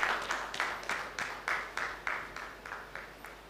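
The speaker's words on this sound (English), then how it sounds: "Let's give a round of applause for Jeremy J as he comes on stage" A crowd claps and cheers at a dance competition grand finale as a finalist walks on stage, the applause coming in steady, pulsing swells that stay fairly distant and moderate in level.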